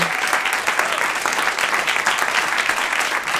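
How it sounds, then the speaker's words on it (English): A crowd at a poetry reading applauds a panel with a dense, continuous wash of clapping, loud and even for the whole stretch with no talk over it. "let's please give one last round of applause to our panel"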